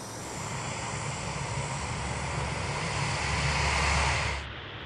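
Engines of a C-130 cargo aircraft drone in a steady, loud, broadband roar that swells slightly and then drops off near the end.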